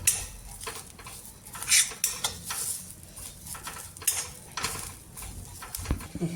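Ground spice paste for a bhajji curry is roasted and stirred in a pan, with a spoon scraping in irregular strokes over a soft, close sizzle and occasional metallic clinks.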